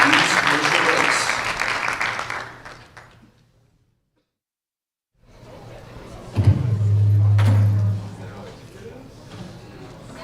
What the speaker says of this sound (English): You can give these men a round of applause.